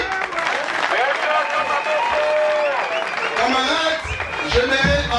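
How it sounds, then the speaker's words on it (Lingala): Applause at a political party meeting, a dense sustained crowd clapping that swells and continues throughout, with cheering voices mixed in. "On peut l'applaudir."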